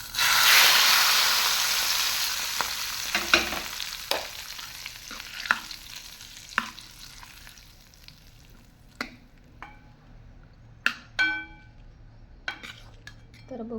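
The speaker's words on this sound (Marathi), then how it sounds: "मी आता जिरे मोहरीचा तडका" Cumin and mustard seeds tempering in hot oil for a spinach dish: a loud sizzle bursts in at the start and fades, leaving scattered crackles, pops and the clink of a utensil against the pan.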